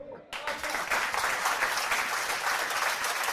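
Dense applause from a crowd welcomes someone arriving in a Punjabi drama scene, bursting in after a brief quiet and staying loud and steady to the end.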